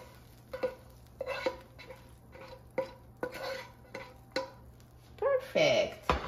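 Scrambled eggs made with cottage cheese being scraped and scooped from a pan onto a plate, with a series of short utensil scrapes and clinks at an irregular pace. A sharper metallic scrape lands near the end.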